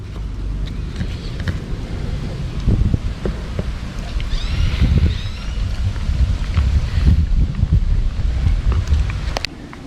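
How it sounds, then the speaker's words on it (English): Strong wind gusts buffet the microphone outdoors, a loud rumbling roar that swells and fades across the whole stretch, with rustling and occasional thumps mixed in. "there's a lot of wind blowing"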